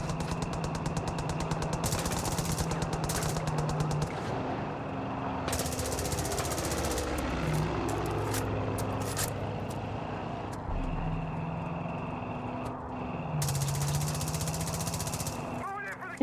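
Strafing machine-gun fire in Far Cry 5 comes in repeated rattling bursts over a steady droning engine and the rumble of game action.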